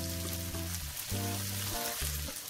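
Rice poured into a hot paella pan for a fish and seafood paella sets off a steady hissing sizzle, continuous and close, with sustained tonal sound running underneath.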